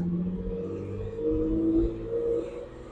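A Ferrari Daytona 365 GTB/4 with a 4.4-liter dual overhead cam V12 drones steadily and close by, its tone swelling and rising through the middle as the engine is revved, then easing back.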